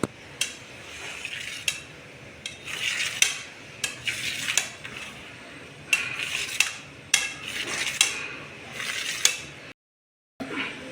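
Steamed idada in a metal plate are cut into pieces with a utensil, giving repeated sharp clinks and scrapes against the plate at an uneven pace, close and fairly quiet, with a short silent gap near the end.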